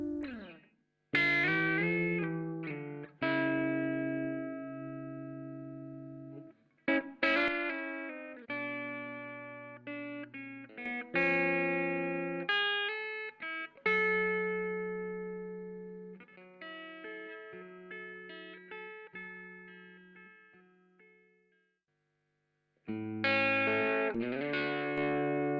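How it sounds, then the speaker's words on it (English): A clean tube amp electric guitar runs through a Distressor compressor in Brit mode with added harmonic distortion, playing separate chords and sustained notes that ring and fade between strums, with a few short pauses. "The Distressor is in Brit mode, resembling the 1176 classic all-button-in sound, with a percentage of harmonic distortion added."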